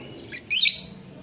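A single bright, high chirp from a female lovebird, short and near, with a fainter chirp just before it and quiet surroundings.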